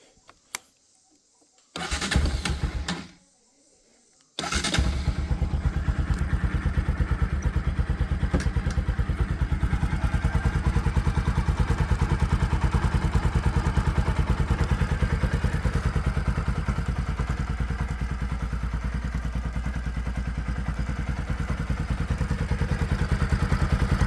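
Bajaj NS200 motorcycle, fitted with a clear chain cover, starting up close by: a couple of brief cranking bursts with pauses, then the engine catches and settles into a loud, steady, throbbing idle that continues without speech.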